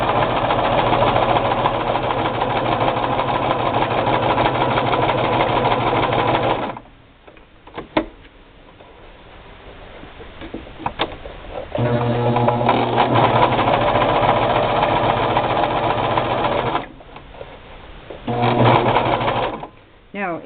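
A Brother LX3014 sewing machine stitches a braided rug in rapid, steady mechanical bursts, stopping and restarting several times with short pauses between runs, close and clear.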